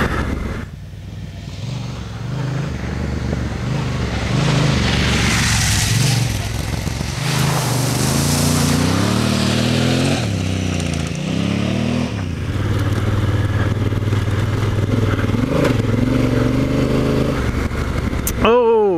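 A Honda Africa Twin motorcycle rides off-road, its engine droning loudly and steadily and rising and falling in pitch as it revs, with wind rush and rattling over the whole stretch.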